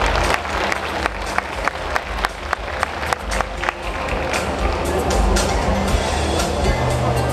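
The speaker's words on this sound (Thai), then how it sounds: "ขอเสียงปรบมือด้วยนะครับ" Audience applause at a Thai national culture festival opening ceremony: a run of sharp, evenly spaced claps that swells into a broader, sustained wash of clapping from the crowd.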